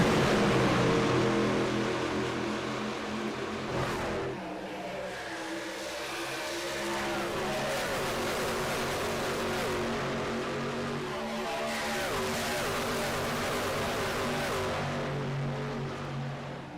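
Pickup race trucks roar off the green flag at Charlotte Motor Speedway, engines revving hard and sweeping past in loud overlapping waves that rise and fade, with no talking.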